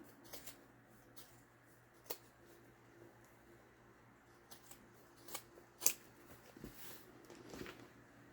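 Scissors snipping fabric while trimming the edges of a double-sided zippered bag, a few quiet, sparse cuts scattered over a soft background hiss, with one sharper snip standing out near the end.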